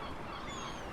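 Seagulls call by the sea, a faint and very brief burst of honking cries heard on their own.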